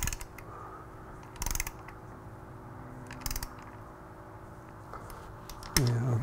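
Mad Racing case saver bolts being tightened on a Kawasaki Z900 motorcycle: quiet mechanical clicking with two short bursts of rapid ratchet clicks, then a louder metallic scrape at the end, close by.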